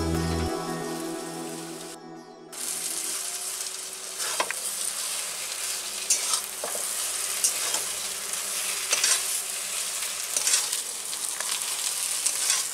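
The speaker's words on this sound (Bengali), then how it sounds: "আমি একদম শুকনো শুকনো করে ভেজে নিচ্ছি।" A dry spice mixture for vegetable chops is stir-fried in a pan, making a soft, continuous crackling sizzle with scattered scraping taps of a spatula, close and moderately quiet, with no talking.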